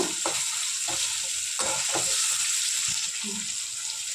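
Chopped tomato frying in oil with chili powder being added for egg chutney, a steady bright sizzle throughout, broken by several clinks and scrapes of a spoon stirring the pan.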